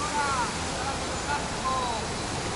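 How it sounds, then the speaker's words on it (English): Water splashing in a town square fountain in Valencia, a steady broadband rush heard at close range beneath faint voices and birdlike chirps, continuous throughout. "You can taste the oranges, you can touch the water from the fountain."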